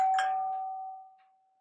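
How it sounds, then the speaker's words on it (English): A home doorbell chimes once indoors, a single clear electronic ding that rings out and slowly fades to silence with no one talking. "My doorbell rang."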